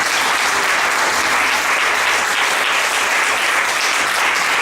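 A church congregation applauds the Lord during a Spanish-language sermon, a loud, dense, steady wash of many hands clapping at once, sustained without pause and with no voices standing out.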